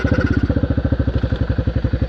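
A quad bike engine chugs close by with a steady, rapid, even thumping rhythm that holds through the whole moment.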